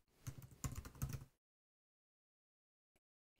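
Quick bursts of keystrokes on a computer keyboard, several clustered clicks for about a second, then silence broken by one faint tap near the end.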